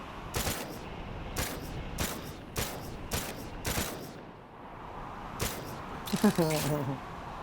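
Sniper and rifle shots ring out in the VR shooter Stormland, a string of sharp separate cracks spaced a second or so apart, with a brief burst of rapid fire near the end and a voice talking underneath.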